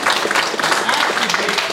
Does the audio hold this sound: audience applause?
yes